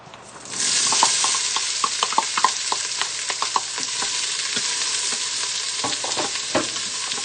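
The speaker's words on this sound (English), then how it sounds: "1/2 cup of onion, 1 red pepper, and 1/3 cup of celery and garlic. And that's what I'm going to put in here and saute this" Onion, red pepper, celery and garlic hit hot oil in a quick cooker with a sudden loud sizzle that settles into a steady frying hiss, broken by scattered stirring clatters.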